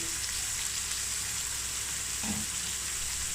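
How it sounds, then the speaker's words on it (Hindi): Finely chopped onion and green chillies fry in a pan with a steady, even sizzle and hiss close up, and a brief stir partway through, with no talking. "इनको फ्राई करेंगे। प्याज और मिर्चें अच्छी तरीके से फ्राई हो चुकी हैं।"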